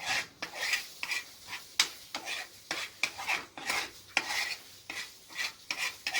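Flour gets stirred into melted butter for a roux, heard as a rhythmic series of raspy scraping strokes of a utensil across the pan, with a faint sizzle underneath and no voices.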